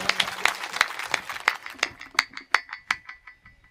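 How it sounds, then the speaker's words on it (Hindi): Audience at a Hindi kavi sammelan poetry recital clapping in a steady rhythmic beat, sharp distinct claps that start dense and gradually slow and thin out, moderately loud in a reverberant hall. "एक बार पूरा सदन जोरदार तालियां बजा करके अभिनंदन करें अपने गुरु जी का"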